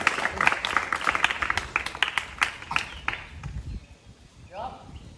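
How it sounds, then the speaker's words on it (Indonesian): Applause at a school long jump lesson for a junior high student after a squat-style jump, a burst of scattered clapping from classmates that thins out and fades, with voices talking over it. "Tepuk tangan buat Baskara."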